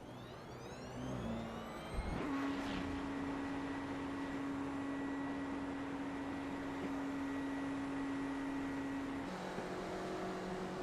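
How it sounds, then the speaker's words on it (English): A touring race car in the pit lane bump-starts and its engine catches, settling into a steady, loud idle hum with a sustained tone over broad mechanical noise, then shifts pitch near the end. "So that's what the bump start sounds like."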